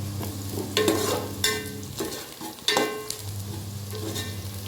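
Browned onions with green chilies frying in a pan, a close steady sizzle broken by several sharp scrapes of a stirring utensil against the metal, no voices.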